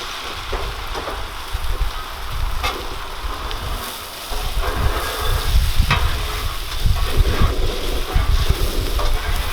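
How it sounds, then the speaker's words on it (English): Egg frying on an overheated griddle alongside a little black pepper and chive, a steady crackling sizzle with occasional sharper pops, close and continuous throughout. "I've got my griddle just a little bit hot this morning. Cooking just a little bit faster than I like to on my egg"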